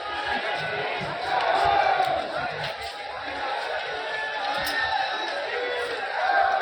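Steady babble from a packed crowd at Deshnok railway station, countless overlapping voices forming a continuous loud wash with a few brief calls poking out.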